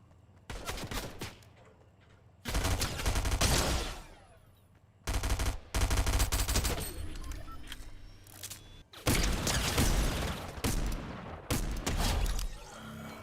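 Gunfire in Fortnite comes in loud, rapid automatic bursts separated by short pauses, some shots crackling and echoing.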